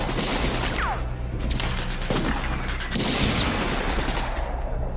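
Dense gunfire from a Russian sniper and army action film, with rapid overlapping shots and bursts forming a continuous loud barrage that runs the full length without pause.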